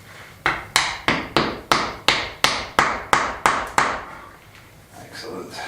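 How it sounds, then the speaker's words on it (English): A hammer taps a piece into place during restoration of a house built in 1870, about eleven sharp, evenly spaced strikes close up, each ringing briefly before the blows stop and faint background noise remains. "Where's the hammer? Oh, there he goes. Tap him in."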